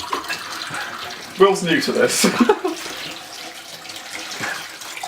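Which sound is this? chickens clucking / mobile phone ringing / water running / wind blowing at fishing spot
water running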